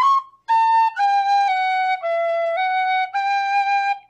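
A tin whistle plays a phrase of a traditional Irish tune, clear bright sustained notes stepping up and down in a steady rhythm, close and solo with no voices.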